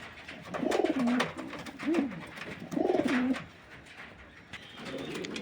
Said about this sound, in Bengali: এক্সিবিশন হোমার এটা পেয়ার এটা ব্রিডিং পেয়ার আছে এক্সিবিশন হোমারে